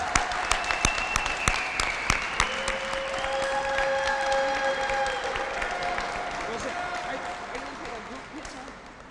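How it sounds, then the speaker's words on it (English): Crowd applause for the 50th anniversary class at a graduation ceremony, sustained clapping with some sharp individual claps and a few cheering voices, gradually tapering off. "Let's give a round of applause for our 50th anniversary class"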